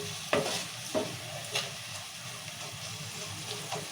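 Tempering for semolina upma fries in a pan with a steady, close sizzle, broken by a few scraping stirs of the spoon in the first couple of seconds.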